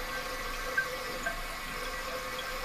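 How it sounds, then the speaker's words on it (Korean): Water steadily running into a toilet tank through the fill valve, a continuous soft hiss and trickle close by, with no voices. "물이 계속 들어가게 되는 거예요"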